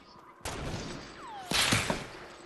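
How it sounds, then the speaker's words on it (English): Hand cannon fire in a video game: two heavy, abrupt shots about a second apart, the second followed by sharper impact cracks and a descending whistle, loud and close, with voices around them. "Knocked him with the hand cannon"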